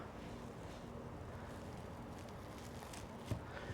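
Wind blows outdoors across the microphone in a faint, steady low rumble with gentle gusting and a small thump near the end.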